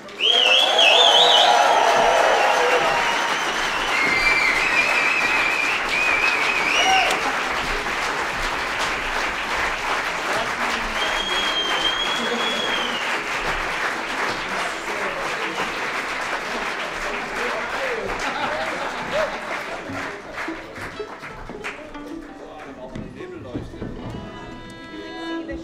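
An audience at a bluegrass and Americana festival in Berlin bursts into loud, sustained applause with some cheering, which gradually tapers off over the long stretch.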